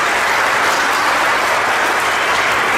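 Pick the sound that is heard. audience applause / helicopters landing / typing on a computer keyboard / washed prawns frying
audience applause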